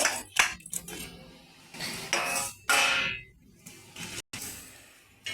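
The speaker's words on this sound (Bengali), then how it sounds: "এবার এই চাপা ঢাকাটা দিয়ে উল্টিয়ে দেবো, থালাটা দিয়ে উল্টিয়ে দেবো।" Fish wrapped in banana leaves is flipped with a plate on a griddle, giving several close clattering clanks of metal plate and cookware in irregular bursts, with no talk.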